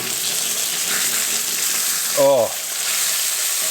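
Steak sizzling steadily in a hot pan inside a winter hot tent, with a brief scraping clatter midway as a homemade spatula flips it; one short exclamation is spoken.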